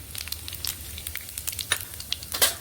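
Cumin seeds roast in hot oil left over from frying bitter gourds, giving a close, continuous crackling sizzle with scattered sharp pops and no speech.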